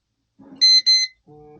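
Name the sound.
safe keypad beeping twice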